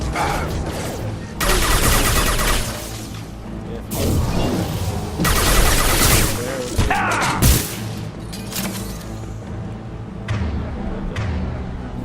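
Gunfire and heavy impacts in the sci-fi shooter Mass Effect 2 come as dense, loud bursts of firing, crashes and booms that swell and recede across the stretch, with game voices mixed underneath.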